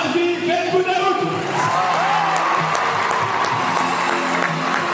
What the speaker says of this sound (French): On l'applaudit très fort, Larbi Ben Boudaoud.